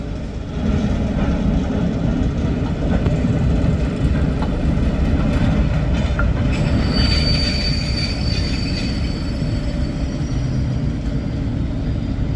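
Statesman Rail train being shunted through Crewe station, with loud, continuous rolling rumble and high-pitched wheel squeals that rise over the rail noise midway, close by and sustained for the whole stretch, with no talk.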